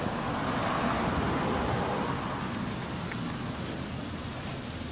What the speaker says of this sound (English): There's a mister in the corner.